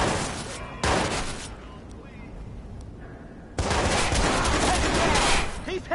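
Dense bursts of automatic gunfire and rattling shots in a Watch_Dogs firefight, loud sustained volleys with a quieter lull between them.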